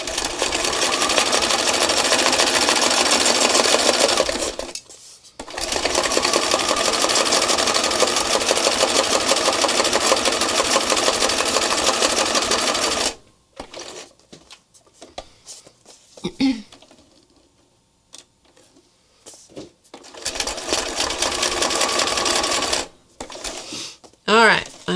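Sewing machine doing detail stitching on an art journal page, loud continuous whirring runs broken by short pauses, with quieter handling sounds and brief gaps between bursts of stitching.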